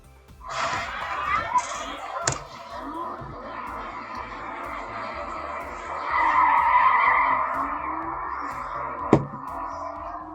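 Mitsubishi 3000GT tires squealing in a drawn-out skid in the video game Need for Speed Underground 2, rising to a loud sustained screech with sharp impacts, engine noise underneath and brief voice sounds.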